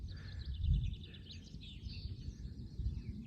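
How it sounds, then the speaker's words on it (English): Faint, high chirps and twittering from small birds carry through a low outdoor rumble, distant and continuous, in a potato garden. "you can hear all the wee birds singing"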